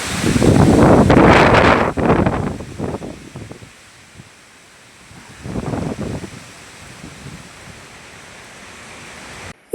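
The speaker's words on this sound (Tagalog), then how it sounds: "Ang lakas na ng hangin dito." Strong wind from Typhoon Uwan roars loudly in heavy gusts against the microphone, easing to a lower rush, then surging again before fading.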